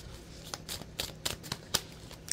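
Cards drawn during a rune stone reading, several soft, crisp flicks and slaps spaced irregularly at close range, quiet against a low steady hum.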